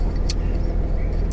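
An old car's engine idles steadily while warming up after a cold start, a close, continuous low rumble with no talk over it.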